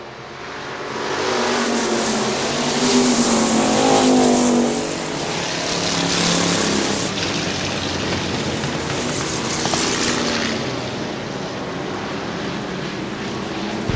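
Factory stock cars race at Hartford Speedway Park in Michigan, engines roaring loudly as the pack sweeps past and then drones on steadily around the track with no talk.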